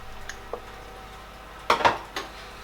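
Mushrooms go into a pot of creamy coconut milk vegetable spaghetti with a couple of clattering clinks of utensil against pot, a brief scraping burst in the middle, quiet kitchen hiss between.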